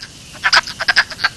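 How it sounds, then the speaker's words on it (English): Wood frog calling: a quick, faint burst of about eight clucking, duck-like croaks packed into little more than a second. "the voice of the wood frog is no longer heard in many areas where it once was common"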